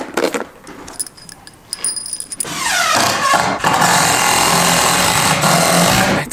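A screw gun drives T30 screws to build a T-beam inside an old mansion under restoration: a few clinks and light handling noises at first, then a loud, sustained whirring drive that runs close up to the end.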